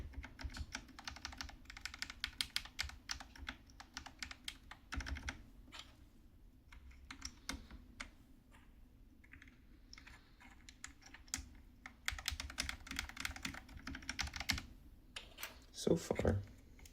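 Typing on a budget K530 keyboard modded with Kisnt KN85 switches, giving steady bursts of clacky keystrokes at close range with brief pauses, and a faint voice speaking underneath at times.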